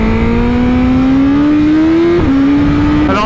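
A 212-horsepower motorcycle on a damp road after rain, its engine revving steadily with a rising, sustained pitch, a brief dip near the end as the throttle shifts, loud and close throughout.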